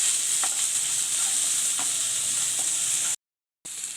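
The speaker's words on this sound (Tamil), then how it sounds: "சேர்த்து நல்லா வதக்கிங்க" Chopped onions sautéing in a frying pan for drumstick-leaf sambar give a steady, bright hiss, with a few soft stirring scrapes. The sizzle cuts out briefly near the end, then resumes.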